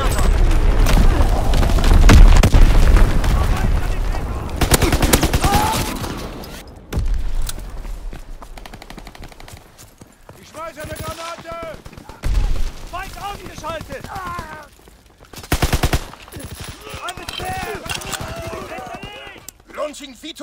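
Artillery strikes and gunfire in Call of Duty: WWII multiplayer on the Gibraltar map: heavy booms and dense volleys of shots, loudest early on, then scattered bursts and impacts mixed with in-game voice announcements.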